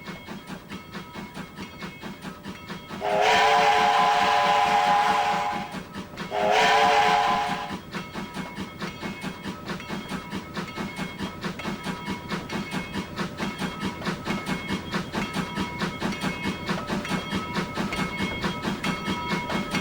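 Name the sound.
steam locomotive leaving the roundhouse, steam whistle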